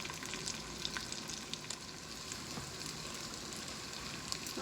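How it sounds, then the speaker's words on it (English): Wild duck tips brown in a pan, giving a soft, steady sizzle with light crackling pops, fairly quiet and with no voices. "So let me get this all browned"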